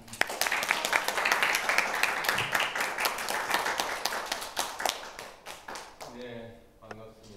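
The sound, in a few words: audience applause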